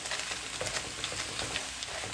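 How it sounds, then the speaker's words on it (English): Tesco frozen fajita mix sizzles steadily in a wok over medium-high heat, a dense, continuous crackle and hiss with small pops throughout, close and alone with no talking. "frozen 8 to 10 minutes in a wok or frying pan or whatever, you know, on a medium high heat"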